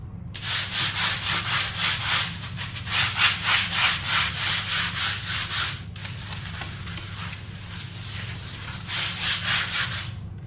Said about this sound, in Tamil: பாத்ரூமில் இருக்கிற தரையை நான் தேய்ச்சி காட்டுறேன். எவ்வளோ சவுண்டு வருதுன்னு பாருங்கள்.